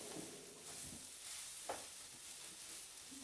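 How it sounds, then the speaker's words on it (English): Vegetables with bread and potatoes being stirred in a hot pan for pepper steak sandwiches, a steady sizzle with a few soft scraping strokes of the utensil, close and fairly quiet. "Stir up my veggies."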